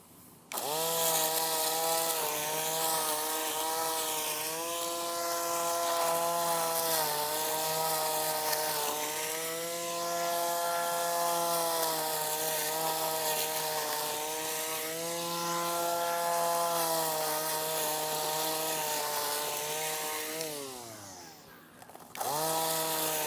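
A cheap lawn mower from Amazon cutting a couple of strips of grass runs as a loud continuous motor whine with pitch wavering under load, then winds down near the end, with no talk.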